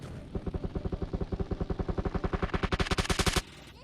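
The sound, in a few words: gunfire in the video game PUBG Mobile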